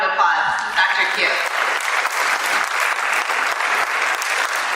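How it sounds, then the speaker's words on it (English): Audience applause fills a hall at a police awareness talk on sex trafficking, steady dense clapping sustained throughout at close, even loudness. "So give him a round of applause, Dr. Q."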